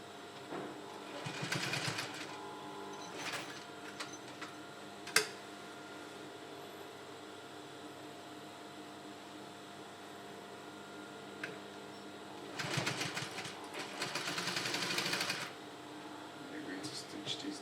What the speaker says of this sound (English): I'm going to make a stitch, a straight stitch right here.